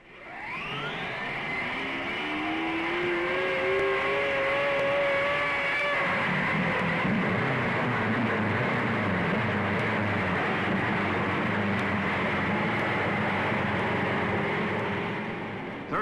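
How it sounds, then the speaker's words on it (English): Race cars at the 1955 Indianapolis 500 fire up together, rising whines climbing in pitch at first, then settling into a loud sustained roar of many engines idling and revving. "gentlemen, start your engines"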